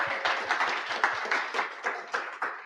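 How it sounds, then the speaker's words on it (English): Audience clapping for the speakers at the close of a London Global Azure Bootcamp 2023 session, a modest, fairly sparse round of individual claps with distinct hand strikes, moderately near and not very loud. "we need to give a big round of applause to all of the speakers who've given up their time and spoken today"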